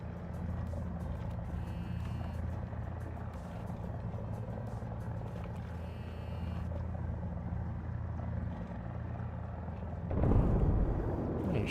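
A Mi-35 helicopter in the War Thunder combat game gives a steady low rotor and engine drone, with short bursts of mechanical chatter mixed in and a sudden loud blast near the end.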